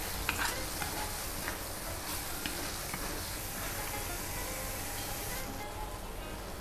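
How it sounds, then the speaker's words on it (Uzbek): Sauce thickened with flour is stirred and fried in a pan for the Uyghur lagman, giving a dense, continuous sizzle. Faint utensil scrapes sit near the start, and the sound stays steady and fairly quiet throughout. "Va yana yaxshilab aralashtirib qovuramiz."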